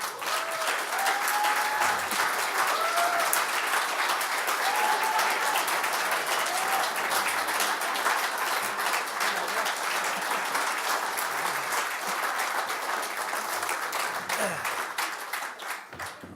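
Loud, sustained audience applause welcoming a guest at a showbusiness interview event, dense even clapping holding steady for about fifteen seconds before tapering off at the end.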